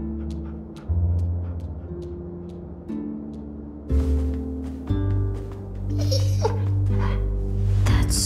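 A dog in The Walking Dead video game gives several short barks and yips, then whimpers, over a steady background of game music with occasional clicks.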